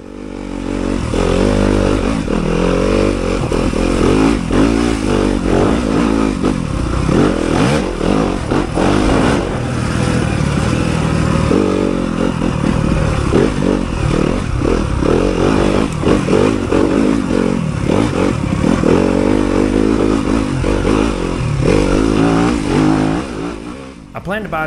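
A 2023 Yamaha YZ250FX dirt bike riding a double-track trail at an outdoor resort, its engine revving and rising and falling continuously for the full length, with clattering and scraping over rough ground up close.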